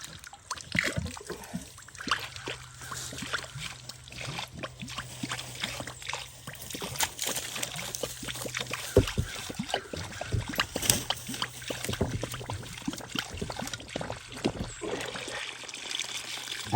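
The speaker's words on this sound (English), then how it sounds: "Now it's flowing a whole lot more better." Spring water runs freely from a freshly cut pipe on an off-grid homestead spring system, a steady close trickle and splatter that continues for the whole stretch without talk.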